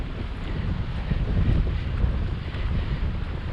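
Strong wind buffeting a microphone at Fowlers Bay, a dense, continuous low roar and rumble that stays loud for the whole stretch, with no voices.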